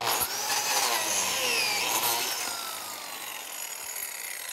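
A power saw set at 45 degrees cuts a mitred mating edge in wood for a mid-century modern nightstand, giving a brief whining, rasping cut that fades as the blade spins down, with no talking.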